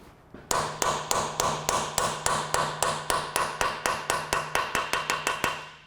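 Repeated light taps of a 23mm 11- or 12-sided socket being knocked onto a stubborn wheel lock nut, about twenty evenly spaced metallic clinks close by, steady and moderate with no talking.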